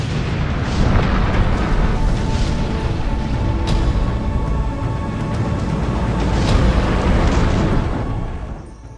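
Massive explosion of the battleship Yamato, a loud, sustained roaring blast with rumbling booms that fills the whole stretch without letup, no voices present.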